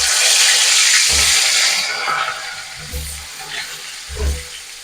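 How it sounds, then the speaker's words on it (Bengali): Pieces of pointed gourd (potol) dropped into hot oil and frying, a broad steady sizzle with soft low thumps as the pieces go in one by one. "এবার আমি তেলটা গরম হলে পটলগুলোকে ভাজতে ছেড়ে দেবো"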